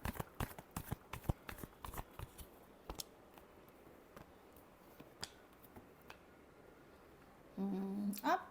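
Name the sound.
shuffling tarot cards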